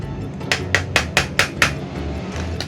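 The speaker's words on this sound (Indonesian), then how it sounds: "Kemudian saya haluskan dulu tuna kalengnya." Canned tuna being mashed by hand inside a plastic bag for fishing bait gives six evenly spaced, sharp squashing thumps over a low steady background hum, with no talking.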